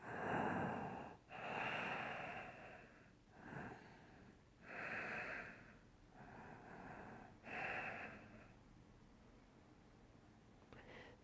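Slow, deep yoga breaths near the mic, about five or six long rushing inhales and exhales in an even rhythm, each swelling and fading, with no talking, trailing off into quiet near the end.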